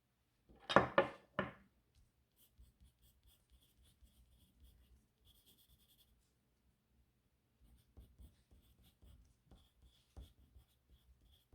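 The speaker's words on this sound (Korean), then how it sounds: "아래쪽에는 꿈이나 다짐, 자신을 응원하는 말을 써볼게요." Pen scratching words onto paper during a hands-on craft program, a quick burst of close, distinct writing strokes followed by faint, sparse taps and rustles in a quiet room.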